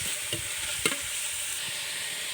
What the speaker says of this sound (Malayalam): ഒന്ന് നല്ലോണം വഴറ്റി വരണമെങ്കിൽ വേഗം ഉപ്പിട്ട് കഴിഞ്ഞാൽ നന്നായിട്ട് ഒന്ന് വഴണ്ട് വരും.